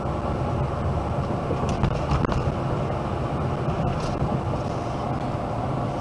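Steady broadband road and engine drone from a 2.8 diesel Chevrolet Colorado ZR2 cruising on the freeway at about 65 mph, a constant loud rumble with faint brief clicks and no voices.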